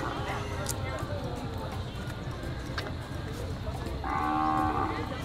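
A carabao (water buffalo) moos at a busy livestock market, one drawn-out low call rising near the end above a constant din of crowd talk, hooves and animal noise.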